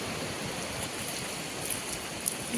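Sea waves wash up on a beach on the Konkan coast, a steady soft broadband rush of surf that stays fairly even and moderately quiet throughout, with no talking.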